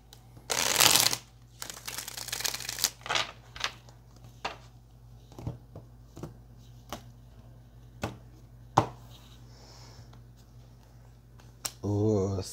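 Several rounds of crisp tarot card shuffling, with riffling bursts and light taps between them, close by, ending in a short snippet of speech.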